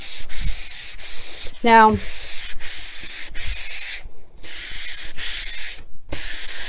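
Sandpaper rasps across a cabinet top coated in latex paint in a run of rhythmic back-and-forth strokes, close and fairly loud, with short pauses between passes and a brief spoken word partway through.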